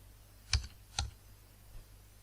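A few crisp clicks of keys pressed on a computer keyboard, two distinct taps close together then a faint third, in a quiet room.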